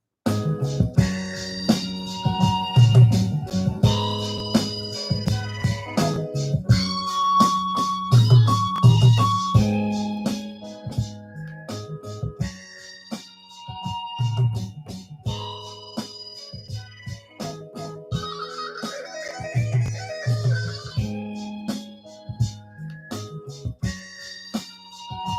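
Hip-hop beat built on an MPC X, with a bright guitar line layered over punchy, steady drums and a bassline. It plays loud and continuous for the whole stretch, with no voices.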